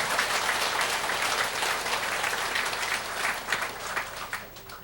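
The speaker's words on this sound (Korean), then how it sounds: "다시 한번 감사와 뜨거운 박수 한번 부탁드립니다." An audience at a talk on family and blessing bursts into warm applause, loud at first and gradually thinning toward the end, with a few distinct claps standing out.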